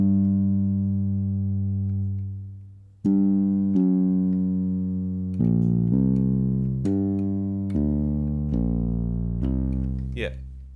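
An Oberheim synthesizer plugin plays sustained, buzzy harmonic-rich tones, starting with one held note and then a series of stepped chord changes, loud and alone.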